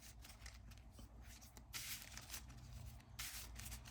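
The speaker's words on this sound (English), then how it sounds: "Let's shuffle this up." A deck of playing cards is shuffled during a solo tabletop card game, giving a steady run of close riffling and rubbing sounds with bursts of brighter rasp, heard alone without talk.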